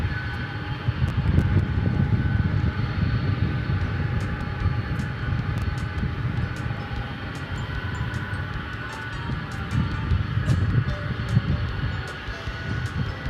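An MD airliner sits at DFW Airport at night, its engines producing a steady low rumble and roar with faint intermittent clicks, heard from nearby and continuous throughout.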